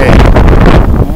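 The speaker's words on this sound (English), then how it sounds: "Very windy day today." Strong gusts buffet the microphone on a very windy outdoor day, a loud rumbling roar that fills the whole short stretch and fluctuates slightly as the wind shifts.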